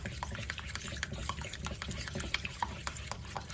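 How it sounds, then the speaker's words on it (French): Apricot cake batter with brown sugar and vanilla sugar being stirred in a bowl, soft wet scraping and sloshing with small clicks, quiet and close. "Je mélange bien."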